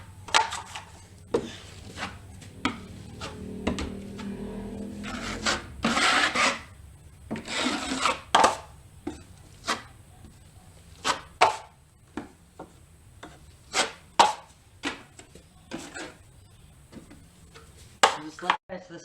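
Drywall mud being spread and scraped over wall patches with a knife, a string of short, close scraping strokes and taps with small pauses between them, with brief speech near the start.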